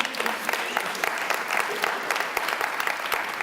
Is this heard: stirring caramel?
no